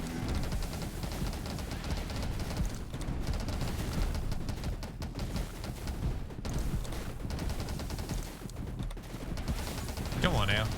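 Dense, continuous rapid gunfire in the top-down survival shooter 20 Minutes Till Dawn, steady and loud throughout with constant game effects layered over it, including grenade blasts.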